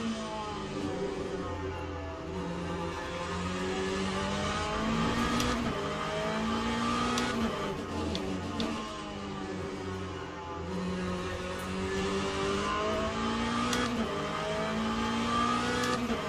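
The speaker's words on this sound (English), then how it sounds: "There comes the first of the hypercars" Hypercar race cars in Assetto Corsa at Knockhill howl past one after another, with layered high-revving engine tones rising and dipping through gear changes over a steady track drone.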